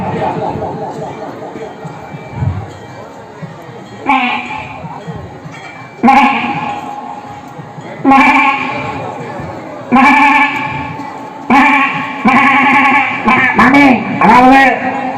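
A mimicry artist imitates a baby goat, voicing a series of about six loud, wavering bleats spaced roughly two seconds apart, close and clear, with a brief spoken word among them.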